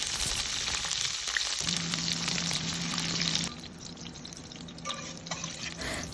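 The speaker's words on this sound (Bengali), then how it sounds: "এবার প্যানে তেল গরম করে ক্যাপসিকামগুলোকে একটু হালকা করে ভেজে নেব।" Chopped capsicum frying in hot oil in a pan, a loud steady sizzle with crackles and spits that eases into a softer bubbling hiss partway through.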